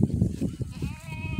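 Goats kept tied inside a village home on a breezy afternoon, bleating in short wavering calls near the listener, with a longer drawn-out bleat toward the end and soft background rustle.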